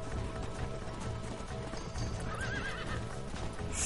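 In Red Dead Redemption, a horse neighs once over a steady clatter of hooves, with game ambience running underneath and no talking.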